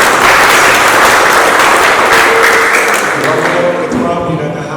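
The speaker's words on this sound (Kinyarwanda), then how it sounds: "ukomere Imana amashyi menshi" Sustained applause from a church congregation fills the space, dense and loud throughout, tapering slightly toward the end while a voice comes through faintly underneath.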